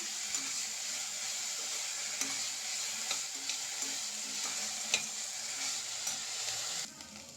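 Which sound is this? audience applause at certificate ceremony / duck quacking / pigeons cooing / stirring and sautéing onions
stirring and sautéing onions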